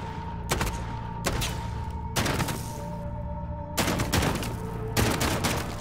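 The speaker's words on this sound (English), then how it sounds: "This is what it looks like if you shoot a dead body in Modern Warfare." Rapid bursts of gunfire in Modern Warfare fire into a dead body, several loud clustered volleys with short gaps, close and dense, with no talking.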